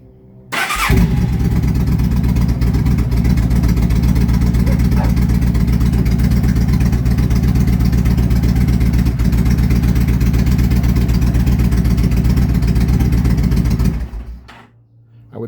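A 2007 Yamaha V-Star 1300 motorcycle cranks over, fires and settles into a loud, steady, close idle that runs evenly for about thirteen seconds before shutting off.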